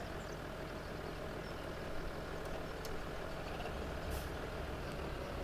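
A 7610 tractor engine runs steadily on a farm during harvest, a constant rumbling drone with no pauses and no voices.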